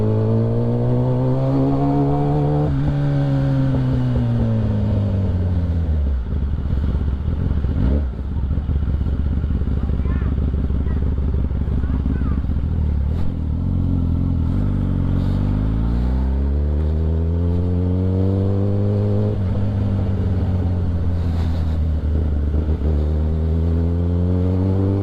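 A Kawasaki ZX10r motorcycle with an aftermarket exhaust idles with a deep bassy burble, then revs up and down in several sweeping pulls, loud and close.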